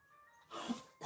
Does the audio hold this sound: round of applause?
no